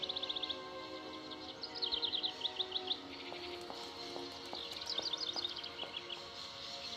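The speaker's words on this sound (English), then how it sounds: "there's another one of those aggressive birds" Aggressive bird in the video game Syberia calling in quick repeated chirp bursts over a steady ambient game background, fairly faint, no voices.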